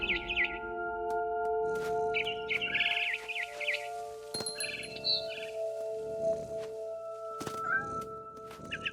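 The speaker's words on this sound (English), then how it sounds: "Then I heard chirping outside my window. It was a barn swallow going back to her nest." A barn swallow chirping and tweeting in short bursts in the video game What Remains of Edith Finch, fairly close, over a steady low hum.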